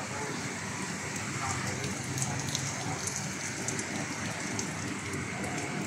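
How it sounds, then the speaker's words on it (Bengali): Rain falls steadily in Abu Dhabi, an even, dense hiss of drops on surfaces that continues without pause at moderate loudness. "এই যে এখন কি বৃষ্টি শুরু হয়েছে আবুধাবিতে"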